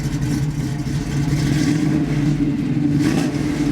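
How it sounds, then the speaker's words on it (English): A 1968 Camaro with a throaty exhaust is given some gas, producing a loud, steady, close engine roar with a deep rumbling drone throughout. "Can you give it some gas for me?"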